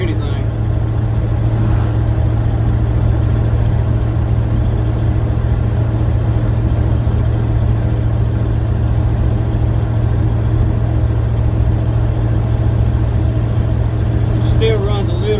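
A 1979 Chevy C20 truck that sat parked since 2005 idles roughly after long storage, its engine a loud, steady, close drone running unbroken throughout.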